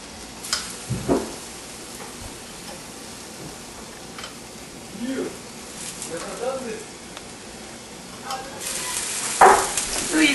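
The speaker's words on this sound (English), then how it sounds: "Ooh, you can hear it sizzle." Salsa sizzles in a hot pan while sopes cook, a soft crackling hiss under faint stirring and clinks, with a voice speaking briefly.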